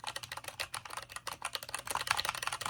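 Rapid clacking keystrokes on a gaming keyboard's mechanical switches, close and fairly quiet, a dense uneven patter of taps with no talking.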